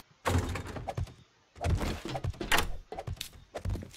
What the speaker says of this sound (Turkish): Bak kapıyı kilitledi hemen.